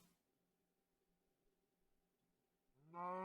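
A Minecraft cow in the ATM9 modpack gives a single low moo near the end, preceded by a faint, quiet stretch of game ambience.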